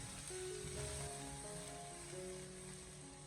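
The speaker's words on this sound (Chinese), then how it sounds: "接着再把切好的姜蒜添加进来，然后再继续的把它翻炒几下" Ginger and garlic stir-frying with shrimp in a wok, a steady close sizzle and crackle filling the whole stretch at even loudness, with a faint tonal hum running beneath.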